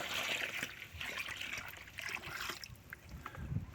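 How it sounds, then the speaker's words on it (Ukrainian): A bucket of water is poured over a newly planted grapevine seedling, giving a close, continuous splashing trickle into soil that wavers in strength and tails off toward the end. "І поливаємо водою. Поливаємо відро води, щоб ґрунт"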